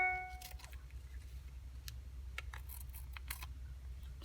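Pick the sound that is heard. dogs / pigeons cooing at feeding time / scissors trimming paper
scissors trimming paper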